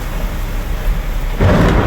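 Thunder rolls over a steady heavy downpour in the Philippines, with a loud rumbling surge about two-thirds of the way through that broadens into a stronger, closer roar.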